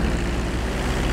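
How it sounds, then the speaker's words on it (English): Airplane taxiing in the video game GTA 5 gives off a loud, dense, continuous engine and propeller roar, a steady broadband drone with a low rumble throughout. "Taxi the plane into the hangar."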